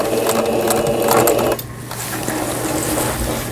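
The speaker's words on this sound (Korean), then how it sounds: "보시는 것처럼 오버록 스티치 지그재그 폭이 넓게 나오고 촘촘하게 나오고" A Singer 5400 sewing machine runs continuously while stitching a zigzag seam, a steady loud mechanical whir and rapid needle clatter that briefly eases and then carries on at a lower level, with no voices.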